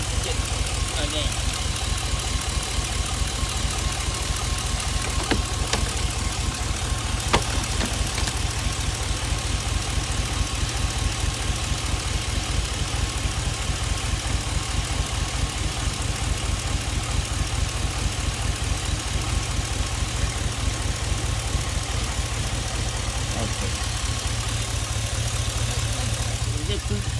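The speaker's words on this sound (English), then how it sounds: "A lot of misfire, right?" Chevy Express van engine idling roughly with a misfire, a steady close rumble with an uneven, pulsing stumble throughout.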